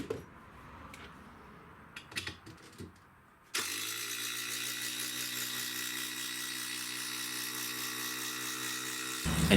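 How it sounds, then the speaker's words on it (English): An AEG oil pulse driver and a DeWalt DCF 887 impact driver drive bugle batten screws into a treated pine log: after a few faint knocks, a loud, steady whirring buzz runs unbroken for about six seconds and then cuts out. "the oil impulse was faster at driving these bugle batten screws down into the treated pine log"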